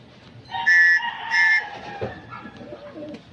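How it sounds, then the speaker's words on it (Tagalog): A bird calls out in two clear, whistle-like bursts close by, followed by softer scattered sounds and faint background noise. "para meron na tayong ibon"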